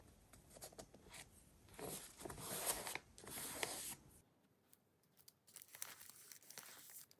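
Scissors cutting through a piece of green fabric at close range, with a few quick crinkling, tearing bursts, a brief pause, then more snipping and rustling as the cut finishes.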